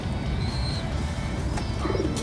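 Pigeons coo softly and repeatedly against a steady outdoor background, joined by a few faint bird chirps; the birds include heavier-bodied homers among regular pigeons, and no one speaks.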